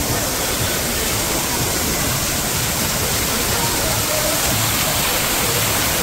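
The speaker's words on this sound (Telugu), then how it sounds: "ఇక్కడ వాటర్ ఫాల్ ఉన్నట్టుంది." An artificial waterfall beside a staircase in Nassau, Bahamas, roars as a loud, continuous broadband rush of falling water, steady and unbroken throughout.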